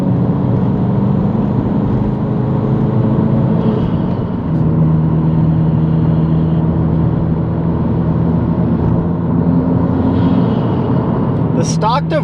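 A 2022+ Subaru WRX with a Perrin intercooler and stock diverter valve cruises with a steady engine drone heard from inside the car. Speech-like sound runs over it, and a brief whooshing chirp comes near the end.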